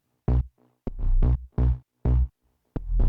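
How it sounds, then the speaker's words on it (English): Deep house bass synth in a hypnotic style, rolled off in the highs, pumping in short rhythmic bursts that swell and cut off with sidechain-like gaps, loud and alone without drums. "and then all together the bass sounds like this."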